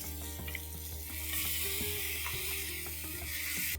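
Ground tomato paste cooking over high flame in a pot for egg biryani, a continuous hissing sizzle that swells midway, with faint clinks and spoon scrapes throughout.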